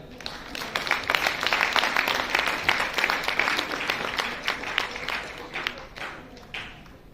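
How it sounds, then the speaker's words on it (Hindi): An audience at a Modicare business meeting claps loudly for Parmar, with a burst of dense clapping that swells and then thins out into scattered claps toward the end. "परमार जी के लिए जोरदार तालियां।"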